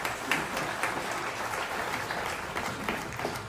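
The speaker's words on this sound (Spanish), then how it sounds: "un aplauso para ellos" A church congregation at Sunday Mass applauds the choir and sound helpers, a steady wash of many hands clapping at moderate distance, even and continuous with no talk.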